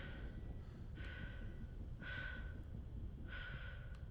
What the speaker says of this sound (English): I'm breathing like Darth Vader.